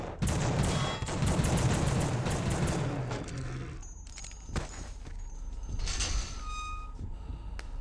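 Sustained gunfire in the horror game The Suffering, a dense close fusillade of shots for a few seconds, then scattered sharp reports and clanks over a tense ambient background.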